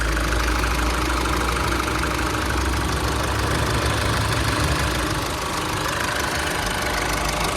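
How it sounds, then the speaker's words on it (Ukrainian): A Mercedes GLB engine idles with start-stop switched off, a steady, even rumble with a faint ticking texture, heard close and continuous without any voices. "Працює двигун просто ідеально."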